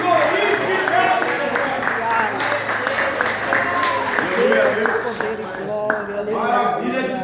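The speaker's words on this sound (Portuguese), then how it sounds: "Pode aplaudir, pode aplaudir." A church congregation bursts into sustained clapping and cheering, steady and loud for several seconds, while a preacher keeps speaking over the applause.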